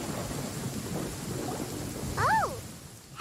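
A thunderstorm in a fantasy video game, with steady rain and low rumbling thunder holding an even background roar, then a brief tonal in-game sound near the end.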